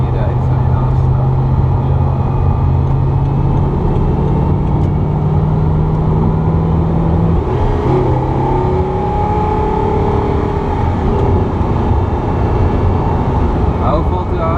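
Steady, loud interior engine drone of an Audi R8 being driven, with a sustained low hum and shifting engine tones as it changes pitch, continuous throughout without a break.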